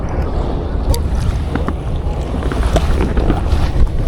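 Strong wind buffets the microphone at sea during kayak fishing off Cebu, Philippines, with a loud, constant roar, gusting rumble and occasional splashes and knocks from the boat.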